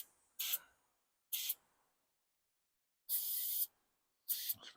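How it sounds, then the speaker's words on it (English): Cleaner sprayed inside a Commodore car during a clean-out, four separate hissing bursts from a trigger spray bottle with quiet gaps between them, the third burst longer than the others, close to the mic. "Spray some more on there. Spray it all over the place."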